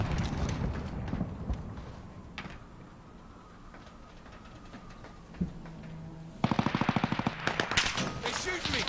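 Rapid bursts of video game gunfire, quiet and scattered at first, then a loud sustained automatic volley near the end, with game ambience throughout.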